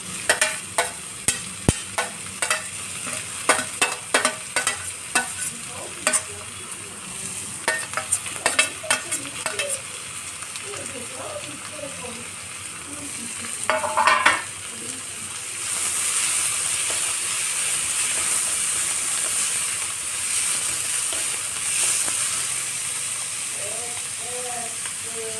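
Finely chopped onions sauté in hot oil for a prawn dish, a soft sizzle under repeated clinks of a spoon stirring the pan, with the frying hiss growing steadier and fuller later on.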